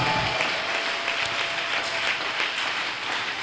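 A church congregation breaks into applause during a French-language prayer service, a loud, sustained wash of many hands clapping close by and fading slightly toward the end.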